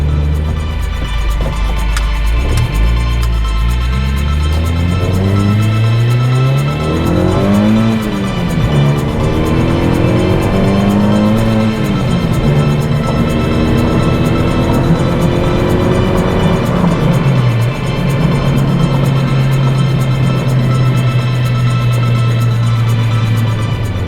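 A supercharged Honda Civic with an R18 engine and an upgraded camshaft pulls hard and loud, its engine note and supercharger whine rising and falling through repeated gear changes before it settles into a steady cruise.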